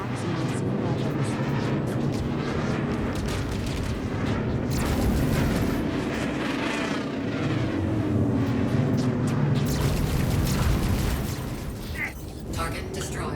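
Loud, dense explosion of a spaceship in Star Citizen space combat, a sustained rumbling roar with layered booms that fills the whole stretch and eases slightly near the end, with game sounds churning underneath.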